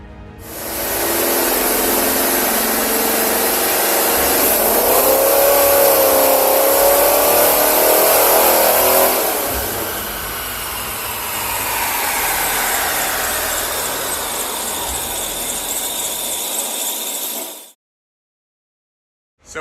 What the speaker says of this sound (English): So we just finished getting Mark's Firebird on the dyno, and it dynoed at 292